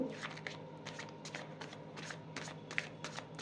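Tarot cards shuffled by hand in a quick series of soft riffling bursts with small snaps, close and fairly quiet, without talk.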